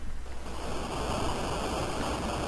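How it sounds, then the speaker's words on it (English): Underground waterfall in Final Fantasy IV, a loud, continuous broadband rush of falling water, steady and close with a slight swell, no voices. "Anyway, an underground waterfall. And we fall down the waterfall."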